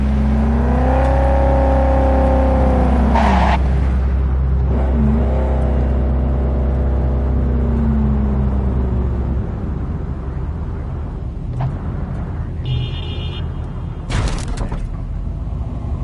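A car in Cyberpunk 2077 drives toward a border crossing, its engine loud and near with rising and falling revs and whir, then easing into a lower rumble with a few sharp clanks toward the end.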